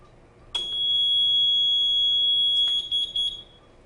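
A steady, loud high-pitched electronic supervisory alarm tone from a fire alarm panel on a Viking double interlock preaction sprinkler system sounds continuously for about three seconds, then stutters briefly before cutting off.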